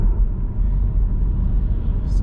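BMW M140i Shadow Edition accelerating hard up a hill, heard from inside as a dense, steady low engine rumble and road drone without breaks.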